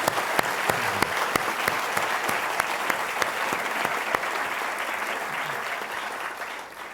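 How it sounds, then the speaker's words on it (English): Sustained applause from a large audience at a 2012 Global Poverty Ambassadors event honouring a public health speaker, a steady wash of many hands with a few sharp individual claps standing out, easing slightly toward the end. "Let's give him another round of applause, ladies and gentlemen"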